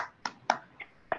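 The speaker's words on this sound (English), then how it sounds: "You can clap and unmute and clap." Scattered applause comes from a few online seminar attendees over a video call: four or five faint, separate claps or snaps spaced unevenly, with no talking.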